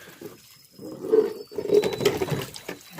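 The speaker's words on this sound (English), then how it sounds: "You see, the water runs all the time here, see? Comes out of that black pipe and it runs all the time." Water runs constantly from a black well pipe into a cattle stock tank outdoors in May snow, a soft, uneven gurgling pour that swells and fades in irregular surges, faint and close by, with no talk.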